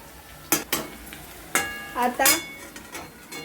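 Onion frying in a pan for poha, with bursts of sizzle and spoon scrapes against the pan, a few short clatters and a faint ringing, close with no talk.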